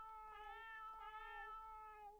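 A kitten gives a few short, clear meows close by, rising and falling in quick succession with nothing else around it.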